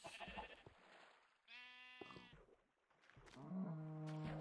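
Sheep in the video game Minecraft bleat in two or three short wavering calls, clear and close, with quiet gaps between and no talking.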